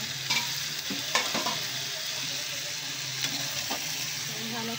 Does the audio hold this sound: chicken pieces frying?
yes